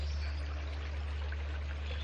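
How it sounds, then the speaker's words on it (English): A small brook flows steadily in the countryside, a soft continuous trickle and rush of water with a low background hum throughout and no voices. "Like this little brook."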